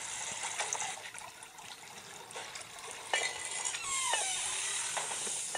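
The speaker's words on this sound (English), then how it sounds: "And then I gotta shoot water" Water spraying in the mobile game Sprinkle, a steady hissing, splashing gush with small bubbly pops and a brief rising whistle, continuous and fairly close with no talk.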